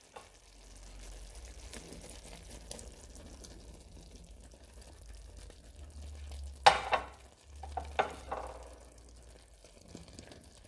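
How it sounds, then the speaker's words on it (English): Squash, corn and queso fresco are stirred slowly in a pan over medium heat, giving faint, quiet sizzling with occasional soft scrapes and a few louder clinks of the utensil. "We're just gonna mix it very slowly so the cheese doesn't dissolve before it cooks."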